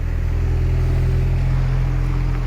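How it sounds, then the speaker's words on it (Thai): A small excavator's diesel engine runs steadily with a deep, continuous low rumble as the machine swings around, a child at the controls alongside grandpa; no talking. "มังกรขับแมคโคร กับตา กำลัง หมุนมาแล้ว"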